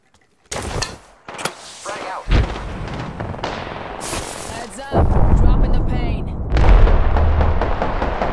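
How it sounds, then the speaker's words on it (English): A frag grenade explodes amid heavy gunfire in the Apex Legends shooter game, with sharp bursts of shots, a big blast, and a rumbling, sustained roar of firing afterward. "Frag out."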